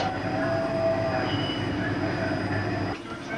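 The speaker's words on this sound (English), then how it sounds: "Look at the train." A train rumbles steadily nearby with a thin metallic wheel squeal, the noise continuous and loud before easing slightly near the end, at Blackpool in 1993.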